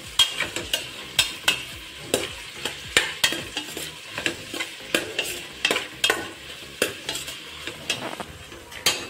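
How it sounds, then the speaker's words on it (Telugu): Chopped onions fry in oil under a steady sizzle while a spoon scrapes and clacks against the pan in frequent, rhythmic stirring strokes. "అందులో 3/4 వేసేసుకొని బ్రౌన్ కలర్ వచ్చేంత వరకు వేయించుకోవాలి."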